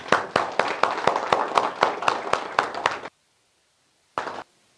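An audience in a seminar gives a round of applause, with loud, evenly spaced claps for about three seconds, then sudden silence and one last short burst of clapping.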